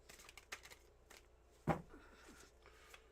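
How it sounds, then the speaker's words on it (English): Deck of playing cards being shuffled, a faint riffle with soft flutters and one sharper snap midway, quiet and close. "Here are your 8 official shuffles."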